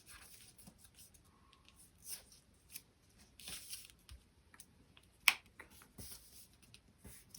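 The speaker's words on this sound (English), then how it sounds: "Now I'm going to fold from this point where this layer intersects right there to this corner down here." Paper airplane folding makes faint, sparse crinkles and creases with a few sharp crisp snaps, close up and quiet.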